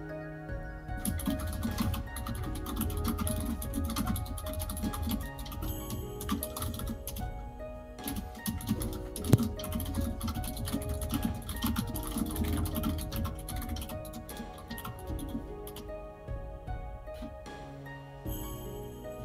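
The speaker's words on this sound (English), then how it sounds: "Is that my keyboard being heard?" Computer keyboard typing during a livestream, rapid close clacking keystrokes in bursts with brief pauses, loud and continuous.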